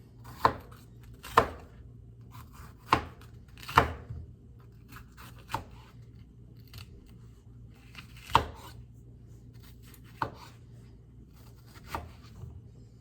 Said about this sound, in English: And I'll cut this up a little bit smaller.